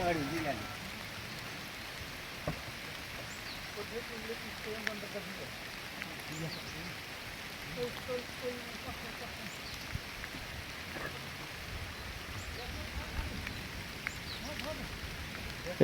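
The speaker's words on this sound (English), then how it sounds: "It's raining." Steady rain falls in Nepal on a mountain road after the earthquake, a constant wash of drops on surfaces with a few faint ticks, heard alone and evenly throughout.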